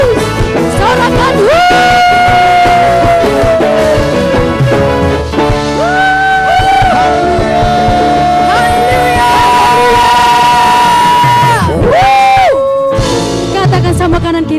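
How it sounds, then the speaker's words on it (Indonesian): A church congregation at a GBI Sunday worship service cheers loudly for Jesus, a sustained crowd roar with shouts and whoops over live worship music and a leading voice. "Berikan sorak-sorai yang meriah buat Tuhan Yesus"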